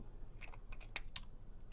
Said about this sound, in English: And then I'm going to trim the top a little bit